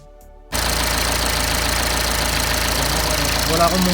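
A 2009 BMW 120d diesel engine cranks after a short near-silence and catches, then settles into a steady, loud, even idle with a fresh belt and replaced damper pulley fitted.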